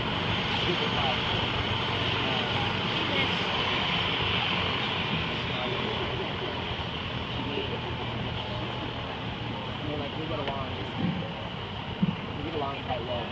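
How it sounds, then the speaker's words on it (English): A steady, heavy helicopter engine roar with rotor-like rumble runs throughout, fairly close and loud, with voices faintly underneath, at a high school DUI demonstration. "the pilot's going to shut the helicopter down"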